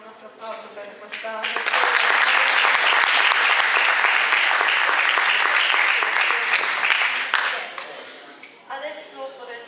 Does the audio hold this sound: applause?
yes